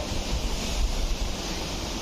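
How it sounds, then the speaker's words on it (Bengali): Strong wind from Cyclone Remal blows steadily outdoors amid heavy rain, a constant broad rushing roar with buffeting at the microphone and no voices. "এখনো হাওয়া হচ্ছে"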